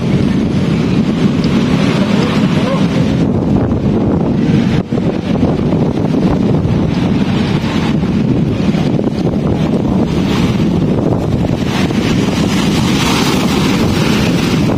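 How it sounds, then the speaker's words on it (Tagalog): Strong sea waves surge against a seawall on an afternoon shore, a steady loud roar of surf mixed with heavy wind buffeting the microphone throughout, with no speech. "medyo malakas pa rin yung alon ngayong hapon mga kababayan"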